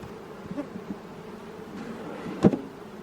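A steady, low insect buzz of many honey bees hums throughout, with a closer bee droning briefly past near the end.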